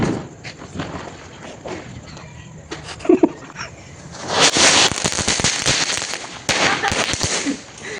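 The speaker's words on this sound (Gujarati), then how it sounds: "તો ગાઈસ તતડીયો છે" Diwali firecrackers, a tatadiyo among them, burst in a dense run of sharp, loud crackles and pops in the second half, after scattered thumps and quieter bangs.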